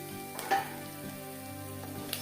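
Rice frying in a pan while a goat tripe dish is cooked, a steady soft sizzle running throughout with a few brief louder stirring scrapes.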